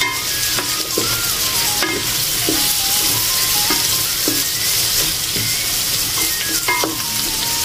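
Garlic, tomatoes and vegetables sautéing in a pan, with a steady loud sizzle and frying hiss throughout, broken by repeated stirring scrapes and light utensil clinks against the pan.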